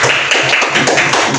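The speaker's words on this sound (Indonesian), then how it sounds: "Tepuk tangan untuk kelompok Gunung Sinai" A classroom of fourth-grade children claps for a presenting group, a brief close patter of clapping and tapping heard throughout.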